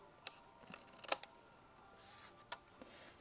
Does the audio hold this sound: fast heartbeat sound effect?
no